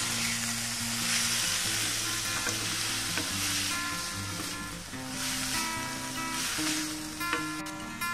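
Capsicum and paneer sizzling in a pan while being stirred, a continuous close frying hiss with scraping and rustling from the stirring, steady throughout with no talk.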